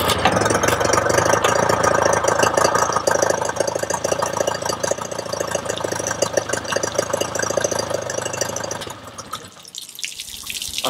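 A two-stroke engine idles during carburettor synchronisation, a busy, buzzing run with uneven firing that carries strongly for about nine seconds before abruptly thinning and quieting near the end.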